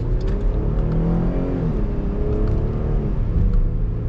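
A 2022 Dodge Durango GT SUV accelerates hard, its engine note climbing steadily and dropping briefly at a quick gear shift before pulling again. The sound is loud and continuous, with no talking.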